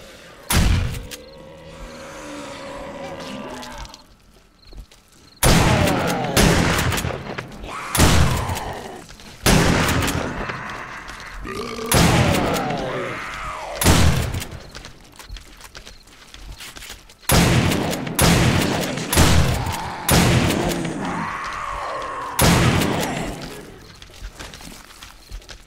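Automated turret in 7 Days to Die Alpha 16 firing in repeated sharp bursts, loud and close, separated by short pauses, with someone speaking between volleys.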